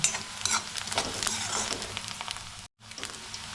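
Onion fries in oil in a pan, a close crackling sizzle with scattered pops and stirring scrapes, steady and alone apart from a brief dropout near the end.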